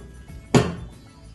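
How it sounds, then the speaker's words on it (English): A Zebra ZT510 industrial label printer's media door swings shut with a single firm, close thump followed by a short rattling decay, standing alone against a quiet room. "Close the media door."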